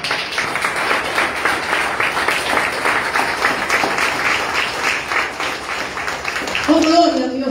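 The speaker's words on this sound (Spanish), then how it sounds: "Un aplauso a Cristo." A church congregation applauds together, dense sustained clapping filling the room for several seconds before a voice starts to speak as it fades.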